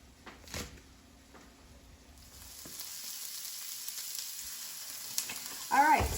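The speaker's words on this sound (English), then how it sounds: "now I'm just sauteing up these onions and green peppers" Onions and green peppers for beef enchiladas sauté in a pan, a soft hiss that swells into a steady sizzle after a quiet start, with a few light scrapes and clinks of stirring, close and fairly gentle.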